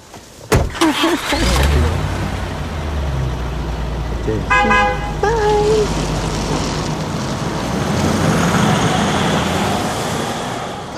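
A car remote lock press sets off a short tonal beep chirp from the car midway, with a door thud and traffic hum around it while people talk nearby.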